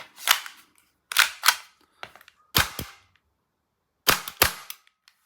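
A Tokyo Marui G17 Gen5 airsoft pistol is fired, sharp snappy cracks coming singly and in quick pairs with brief gaps between, close and loud with no talking.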